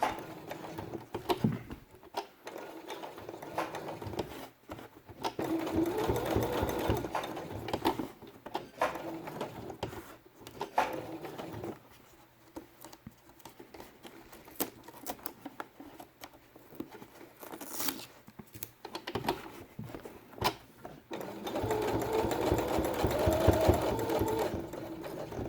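A sewing machine stitches felt pieces for a quiet book, running in bursts of steady mechanical whirring with short pauses between seams, close and moderately loud.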